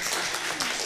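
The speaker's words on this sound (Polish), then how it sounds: "Brawa." Audience applause at a short-film screening: a brief, dense wash of many hands clapping, fairly faint and distant, with no voices over it.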